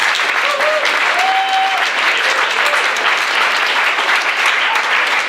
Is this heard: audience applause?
yes